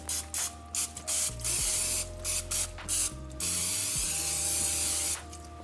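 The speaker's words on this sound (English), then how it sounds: "I'll just spray this here." Extra virgin olive oil cooking spray greasing the bottom of a Pyrex baking dish, a series of short close hissing bursts followed by one longer continuous spray, with no talking.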